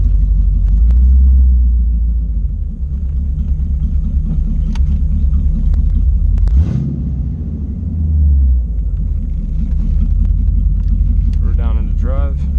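A 1985 C4 Corvette idling and revving on open headers, a loud deep rumbling exhaust close by with a couple of swells in the throttle, running continuously while a voice speaks briefly near the end.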